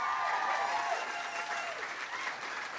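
A convention panel audience applauds steadily, dense clapping close and loud throughout.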